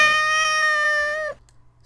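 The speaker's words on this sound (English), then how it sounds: "Stop meowing." A cat meows in one long, loud, close drawn-out call lasting over a second, then stops abruptly into near silence.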